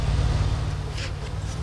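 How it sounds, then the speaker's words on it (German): A car drives in the video game DayZ, a low steady engine rumble heard at moderate distance, continuous throughout with no talk. "Da kommt ein Auto reingefahren."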